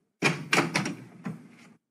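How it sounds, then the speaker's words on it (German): An office door opens in a short burst of wooden knocks and clunks, several close thuds over under two seconds before it falls silent, with no talk. "Kommissar Gandolf öffnet die Tür von seinem Büro."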